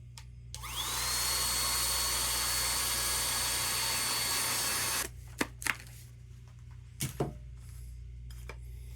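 A small vacuum spins up and runs steadily for about four seconds, sucking loose black powder out of a Knight MK-85 muzzleloader. It then shuts off, followed by a few sharp handling clicks and knocks.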